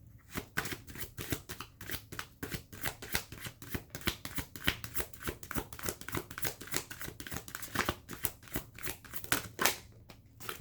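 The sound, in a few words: shuffling tarot cards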